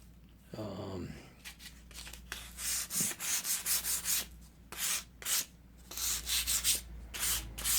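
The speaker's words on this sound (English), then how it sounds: "Just a light rub or two with the sandpaper and the brass brush." Sandpaper and a brass brush scrub over rough brass plating on a North Brothers No. 2100 Yankee brace during restoration, giving a series of short, close rasping strokes in uneven bursts.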